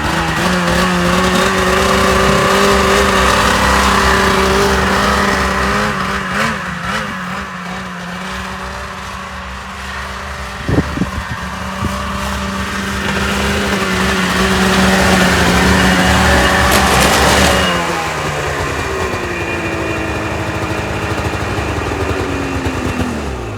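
A snowmobile engine runs loud and close during loading onto a truck, holding a steady idle, dipping briefly, then revving up with rising pitch before settling back to a rumbling drone.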